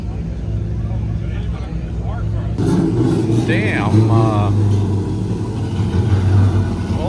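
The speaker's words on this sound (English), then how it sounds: "All these boys are about to drift." Cars drifting at Fuel Fest 2024, engines droning and revving loudly and continuously nearby, with crowd noise and a voice speaking over them.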